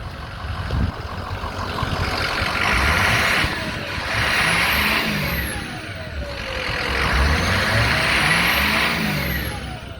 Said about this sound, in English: We're going to rev it up a little bit.